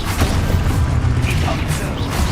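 Expulso explosion spell cast in Hogwarts Legacy, a loud, dense burst of blasting and crashing with whooshing debris that stays busy and roaring for the whole stretch.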